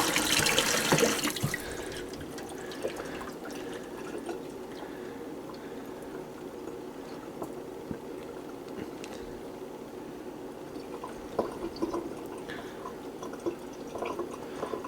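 Water is poured over a quartz crystal pyramid in a brief trickling splash at the start, then fades into soft drips and quiet handling.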